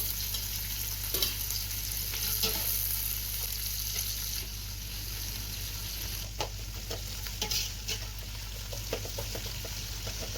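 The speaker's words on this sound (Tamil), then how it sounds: "பட்டை, கிராம்பு பொரிஞ்சதும் நம்ம கட் பண்ணி வச்சுருக்க வெங்காயத்தை ஆட் பண்ணிக்கோங்க" Sliced onions sizzle in hot oil with cinnamon and cloves as the base for a mutton biryani, a steady loud frying hiss broken by the scrape and clatter of a stirring spoon.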